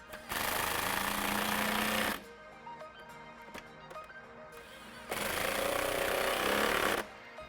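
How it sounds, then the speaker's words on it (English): Two bursts of a power tool run the 10mm bolts tight on a Jeep Wrangler cold air intake, each a steady loud whir of about two seconds separated by quieter clicks and handling noise. "Now we're going to tighten up these two 10mm bolts in the center section."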